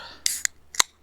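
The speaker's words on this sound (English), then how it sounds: "Let's all crack open another beer." A beer can opens with a sharp metallic snap and a short fizzing hiss, then a second crisp crack a moment later, close by and fairly quiet, outdoors in Scotland.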